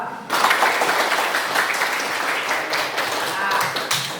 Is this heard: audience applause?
yes